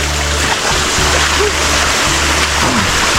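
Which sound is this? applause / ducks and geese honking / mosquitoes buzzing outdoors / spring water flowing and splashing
spring water flowing and splashing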